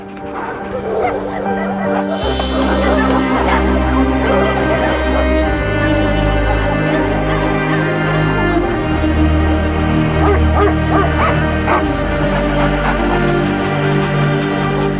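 Stray dogs bark, yip and whimper, mixed under loud, continuous music with a steady bass throughout.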